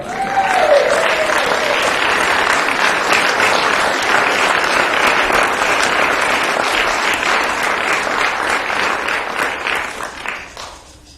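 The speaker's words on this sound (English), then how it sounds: "Let's have a big round of applause for your 2020 O'Brien County Fair Royalty." Crowd at a county fair queen contest gives a loud, sustained round of applause for the newly crowned fair queen and royalty, holding strong for about ten seconds before tapering off at the end.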